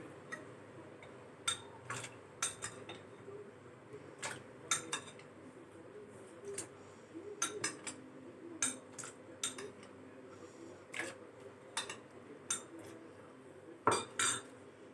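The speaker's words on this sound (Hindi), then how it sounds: "अब हम फालसे डालेंगे।" Metal spoon clinking against a bowl or glass as phalsa berries are scooped in for a milkshake, a series of sharp, quiet taps and clinks spaced irregularly with no talking.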